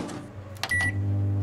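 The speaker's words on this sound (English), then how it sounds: "No, that's a microwave." A microwave oven gives a short electronic beep and then settles into its steady, loud running hum, heard close up.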